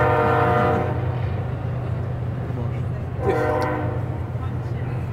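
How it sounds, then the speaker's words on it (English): A train rumbles steadily nearby while its horn sounds in two blasts, one at the start and another a few seconds later. "A little difficult to hear the delicate impulses with the train."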